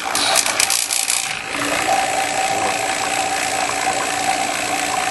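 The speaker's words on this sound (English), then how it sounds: "So as soon as I turn the pump on," A refrigerant recovery pump starts up with a click and settles into a steady, loud mechanical drone with a rough, rasping buzz that runs continuously.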